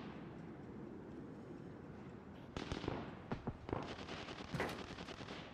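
Rapid bursts of gunfire in a first-person shooter game, shots fired through a house, crisp cracks clustered in the second half after a quieter ambient stretch, moderately loud with no talk.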